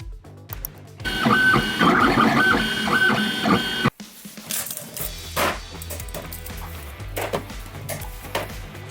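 A 3D printer prints RC car steering parts, its stepper motors producing whirring, buzzing tones whose pitch and rhythm shift as the head moves, with a brief pause and then a busier, more clattery passage.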